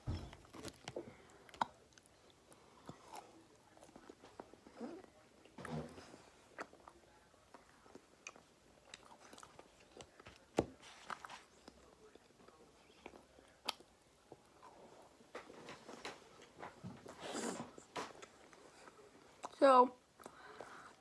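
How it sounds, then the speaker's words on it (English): Waffles being chewed and eaten in a home kitchen, with soft, irregular crunching and biting sounds spread across the clip and a few sharper bursts near the end, close up and fairly quiet. "So let's see how these waffles taste."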